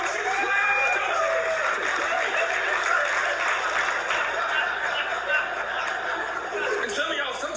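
Comedy show audience applauding and chuckling together, a dense steady wash of clapping and laughter that holds at full strength for the whole stretch with no pause.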